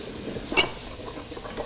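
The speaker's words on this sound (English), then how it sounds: "I'm just going to add this butter in there as well. Okay. I'm just going to stir that around." Butter and bacon sizzle in a pot with browning bacon fat, a steady frying hiss with one brief scrape of stirring near the middle, close and moderately loud with no talking.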